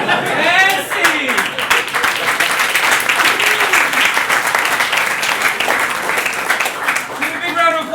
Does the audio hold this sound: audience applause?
yes